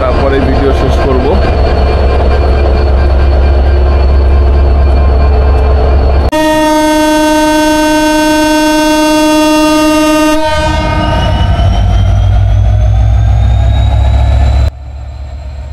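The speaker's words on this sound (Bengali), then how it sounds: "যশোর স্টেশন থেকে ট্রেনটা ছেড়ে দেওয়ার মুহূর্তটা আপনাদেরকে দেখাই" Chitra Express train departing Jessore station in Bangladesh: a loud, sustained horn blast rings out over the rumbling engine, then the engine drones on as the train pulls away, with a voice speaking.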